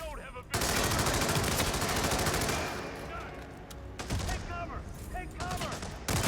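Video game gunfire: dense, loud bursts of rapid shots and automatic fire nearly fill the whole stretch, with a brief lull, and voices break in over the shooting.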